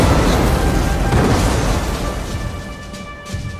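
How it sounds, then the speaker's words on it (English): Heavy rumbling German artillery fire on the Western Front trenches, a loud dense roar of booming explosions that gradually fades, with a faint thud near the end. "Hakewell Smith and his men were glad to be out of the trenches, which had just come under murderous German artillery fire"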